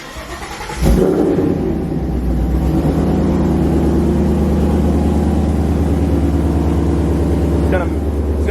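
A Ford 5.0 V8 with a newly replaced O2 sensor cranks and fires, then settles into a loud, steady idle close by, a brief click near the end.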